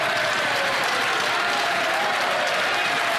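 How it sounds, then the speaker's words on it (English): Sustained, dense applause fills the House of Commons chamber during Question Period, a steady wash of many hands clapping at close range with crowd murmur mixed in and no individual voice standing out. "They don't want us to hear this applause."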